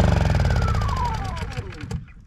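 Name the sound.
Honda EU10i inverter generator engine being switched off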